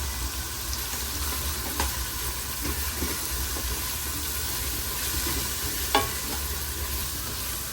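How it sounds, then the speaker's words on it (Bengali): Spices are stirred into chicken bharta in a pan, a steady sizzle running throughout with scattered scrapes of the spoon and one sharper clink near the end, and no talking. "সব মশলাকে ভালো করে মিশিয়ে নিচ্ছে।"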